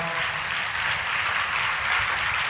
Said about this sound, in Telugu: చప్పట్లు కొట్టి దేవుని మహింపరచొద్దా?